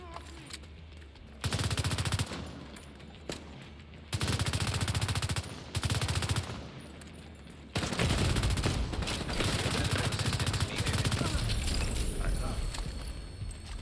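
Rapid automatic weapon fire from the video game The Division 2, several loud sustained bursts separated by short pauses, then a long continuous burst, with game ambience underneath.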